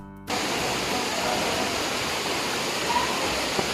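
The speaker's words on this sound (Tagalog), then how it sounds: "dito na po kami sa Kilangin Falls" Kilangin Falls waterfall in Liliw, Laguna roars as a dense, steady broadband rush of falling water, close and continuous, with no voices over it.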